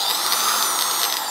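A Hyundai D-850 Expert electric drill with a keyed chuck runs at its minimum speed setting, giving a steady, even motor whine that holds constant and close throughout, with no voices.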